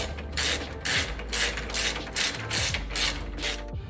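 A ratchet tightening a motor mount nut on a 5.9 engine, bursts of rapid clicking in a steady back-and-forth rhythm, close and loud, with no talk.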